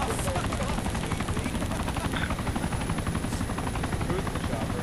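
Helicopter in the DayZ video game, a steady dense rotor thrum filling the background, loud and continuous, with faint gunfire-like pops and voices mixed in.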